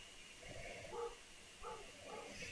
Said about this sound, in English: And next door dog is going crazy.